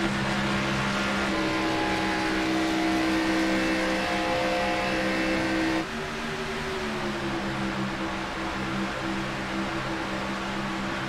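Race cars drone around the Talladega oval in the iRacing simulator, a dense pack of engines holding high steady pitches that shift and drop as cars pass, continuous and loud.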